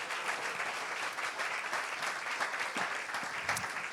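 A church congregation applauds during a Sunday morning sermon, a steady wash of many hands clapping at moderate volume with no clear voices over it.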